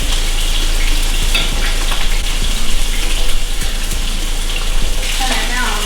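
Calamari frying in hot Spanish olive oil in a skillet, giving a steady loud hiss and crackle that runs continuously for several seconds, with faint speech-like sounds mixed in.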